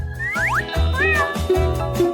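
Cartoonish cat meows play from a TV show about cats, several rising and sliding calls over a steady, pulsing musical background, moderately loud and close.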